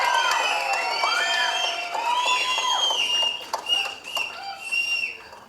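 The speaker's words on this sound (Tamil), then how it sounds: "நல்ல கைத்தட்டல் கட்டலாம்." Audience at a Tamil film event greets a guest with sustained cheering and clapping, loud and steady, with whistles and shouts rising over the crowd noise before it begins to thin out near the end.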